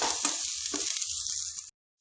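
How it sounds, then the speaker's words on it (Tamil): Onions sauté in a hot pan for a Tamil breakfast dish, giving a close, bright, steady sizzle that crackles briefly before cutting off abruptly. "வெங்காயம் வதங்கிடுச்சு"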